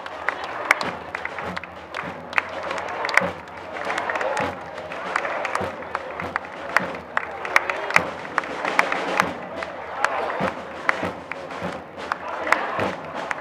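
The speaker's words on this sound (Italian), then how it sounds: "Questo è l'applauso che dovete fare, questo è l'applauso vero, questo è l'applauso che si aspetta dagli alpini" A large crowd at an outdoor Alpini regional gathering in Feltre breaks into sustained, dense applause with scattered sharp claps that carry steadily for the whole stretch, loud and near, with no clear speech over it.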